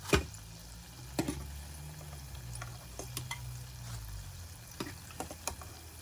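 Oil sizzles steadily in a pot of deep frying plantain fritters, with a few light clicks and taps of a utensil now and then.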